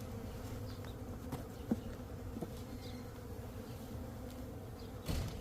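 Honeybees fill an open hive during the first hive check of 2026, as a second brood box is added and mites are treated. Their buzzing is a dense, steady hum close by, with a few louder passes and no talking.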